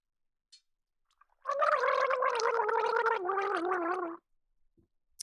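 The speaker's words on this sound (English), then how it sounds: "I'm going to take a sip of my water and gargle the phrase." A singer gargling a sip of water while voicing a sung phrase, one sustained bubbling, wavering tone lasting almost three seconds, close and clear in a quiet room.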